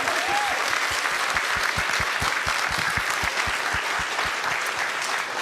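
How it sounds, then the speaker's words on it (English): An audience at a book event claps steadily, a dense wash of applause with some distinct sharp claps, sustained for several seconds. "Can we have a round of applause for Chuck and Nat?"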